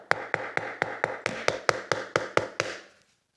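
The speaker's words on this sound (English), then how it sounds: "My favorite strategy of how to knock a door is just knock hard and long." Knuckles rapping hard on a door, about a dozen loud, evenly spaced knocks in a steady rhythm, close and clear, then silence.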